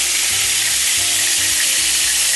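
A steady, close sizzle of meatballs frying in hot oil, bright crackling hiss throughout with soft low knocks now and then.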